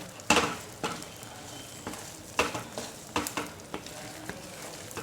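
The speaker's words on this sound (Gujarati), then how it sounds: "ગોળ નાખ્યા બાદ આ રીતે કન્ટિન્યુ હલાવતા રહેવાનું છે" Flour and jaggery stirred in a pan while making sukhadi, giving a series of scraping, tapping spoon strokes at an irregular rhythm over a faint sizzle, close and moderately quiet.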